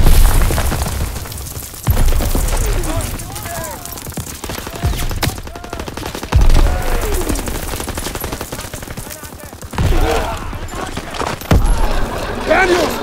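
Heavy gunfire and booming blasts from a WWII battle in the Call of Duty: WW2 campaign, with dense rapid bursts and loud thuds repeating throughout while shouted voices call out beneath the din.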